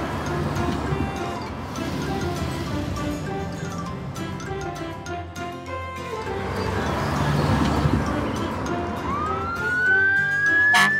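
A fire truck, tow truck, crane, street sweeper and taxi leave a garage with sirens wailing over a busy, rumbling bed of noise. A rising siren sweep builds near the end.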